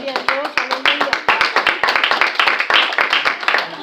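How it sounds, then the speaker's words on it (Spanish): A church congregation claps hands together in a steady, fast rhythm, sharp close claps repeating throughout under a mix of voices. "Denle los palmas al Rey en esta hora."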